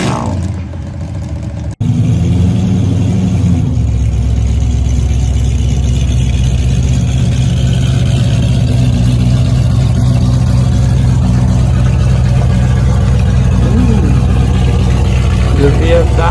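The big engine of an old-school muscle car rumbles loudly and steadily close by at a burnout event, a deep continuous roar that starts abruptly after a short quieter lead-in, with voices faintly audible.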